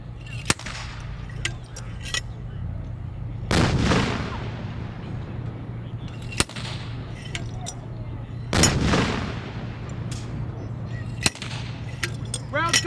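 A WWII mortar fires high-explosive rounds at an outdoor encampment demonstration, with three heavy booming blasts spaced several seconds apart, each followed by a rumbling tail, plus sharper cracks and a low hum between.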